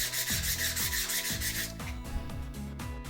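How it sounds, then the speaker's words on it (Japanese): An EVA fishing rod grip is sanded by hand with waterproof sandpaper while the rod is turned, producing close, steady, rhythmic rasping strokes in quick succession with no talk. "ロッドを回しながら一部だけではなく全体的に削ります。"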